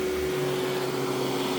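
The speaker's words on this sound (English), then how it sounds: "this vacuum on full power" A Royal Deluxe Power Team vacuum running at full power on medium-thick pile carpet gives a steady, loud motor whine with a constant hum underneath and no talking.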